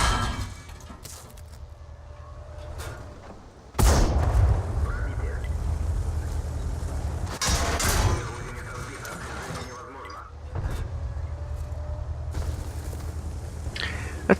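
A tank cannon fires in World of Tanks with a heavy booming blast, followed later by a second burst, over a constant rumbling engine and clanking tracks, with someone talking over the game.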